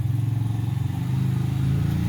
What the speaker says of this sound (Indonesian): ini ada mesin pangkas Kemei tipe 1986. Ini kalau dihidupkan susah hidup